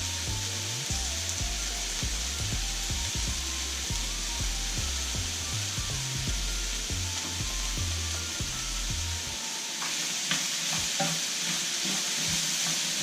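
Mushrooms and garlic sizzle and fry in a hot pan with onions, a steady crackling hiss broken by repeated rhythmic stirring scrapes, close up and fairly loud throughout.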